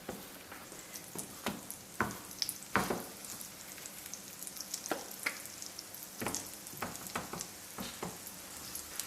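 Small flatbread cakes fry in hot oil on a preheated griddle, with a soft steady sizzle and scattered crackling pops, some louder and sharper, at close range and without any voices.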